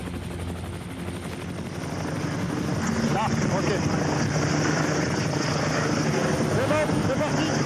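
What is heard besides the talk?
rescue helicopter hovering above a ski slope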